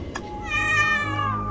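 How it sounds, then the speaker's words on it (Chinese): A single drawn-out cat meow rising then falling in pitch, clear and close, heard alone over a faint low background in a dramatised game scene. "我听到了猫叫声"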